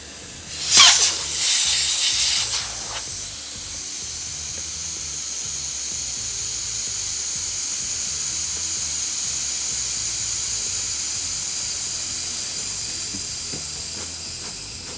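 Air hisses steadily and loudly from the valve stem of an inflated inner tube with its core removed, on a 1926 Oakland. The escape is close and continuous and lasts the whole span, after a brief sharper burst of noise near the start.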